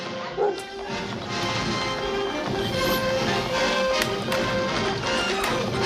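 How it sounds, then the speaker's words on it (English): Dogs bark and yip in a scene from the 1950s film Viking Women and the Sea Serpent, scattered barks over a busy, loud soundtrack with other sound effects and no clear talk. "Unleash the dogs! Both of them!"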